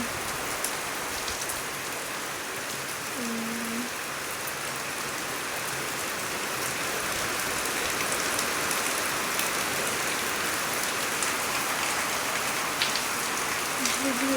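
Steady rain pattering on green trees under a cloudy sky, a continuous even hiss throughout, with a brief faint tonal sound near the start and end.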